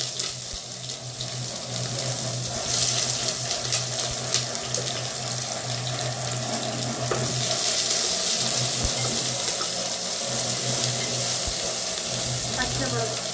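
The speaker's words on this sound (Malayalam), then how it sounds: "സവാള ഇട്ട് കൊടുക്കാൻ പോവാണ്." Onions frying in oil and ghee for an egg biryani, a steady broadband sizzle running continuously at close range with faint stirring, no one speaking.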